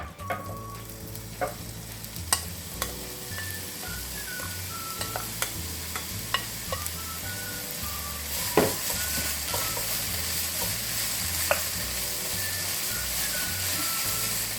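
Bellflower root (doraji) stir-fried in a hot pan: a steady sizzle with repeated scraping and stirring clatters of a utensil against the pan, close and fairly quiet, with no talking.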